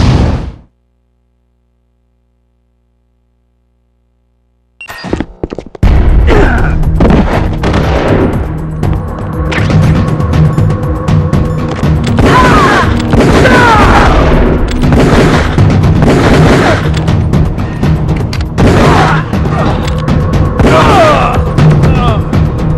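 Heavy gunfire from the video game Metal Gear Solid: The Twin Snakes, with dense rapid bursts of shots and booming impacts, loud and close, after a short silence and a few opening blasts.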